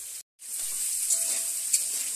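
Cauliflower florets fry in hot oil for a curry, giving a steady close hiss of sizzling that drops out briefly near the start, then continues evenly with small pops.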